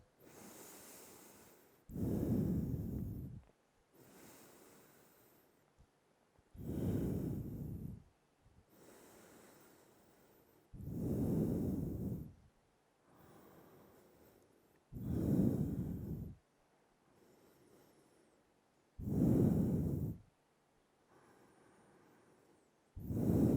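Deep, slow breaths during a held yoga hip stretch, with five loud, close exhalations spaced about four seconds apart and softer inhalations between them, with no talk.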